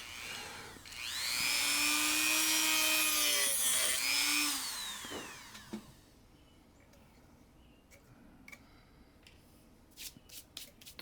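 A saw grinds through wood for a kayak crate in a long, loud stroke for several seconds, then scattered knocks and taps follow at lower volume.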